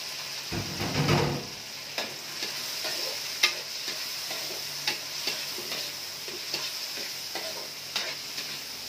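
Garlic, onion and tomato sizzle and fry in a pan with pork spareribs, a steady close crackle broken by a few stirring scrapes and clinks, with no talking.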